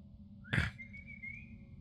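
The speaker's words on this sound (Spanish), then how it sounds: "Me han silbado, colega." A single clear whistle, rising then holding a steady tone, sounds in the horror video game Lost Invivo over a quiet low background hum.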